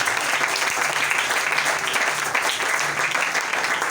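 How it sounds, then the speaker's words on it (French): A church congregation applauds to acclaim the Lord, steady dense clapping from many hands filling the room without pause, loud and close throughout. "Est-ce qu'on peut acclamer le Seigneur à ce moment-là?"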